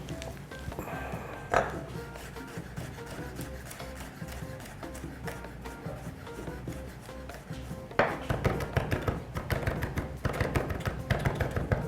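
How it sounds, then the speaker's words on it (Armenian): Garlic cloves are crushed and finely chopped on a board, a fast run of light knife taps and scrapes that grows louder and denser toward the end. "3 փոքր կամ 2 մեծ պճեղ սխտոր, ճզմում և մանր կտրատում ենք"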